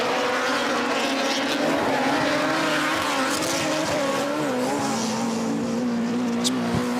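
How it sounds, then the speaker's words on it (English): Rallycross cars at the RallyX Nordic finals at Ouluzone, Finland, heard braking and backing it into turn one: a continuous dense roar of several engines with tonal revving lines and occasional tire squeal, loud and steady throughout. "You can hear them all backing it in down in turn 1."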